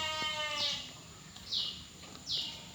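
Female Dorper sheep in a farm pen bleat with a harmonic call at the start, then give two shorter, breathy cries later, all moderately close over steady background noise.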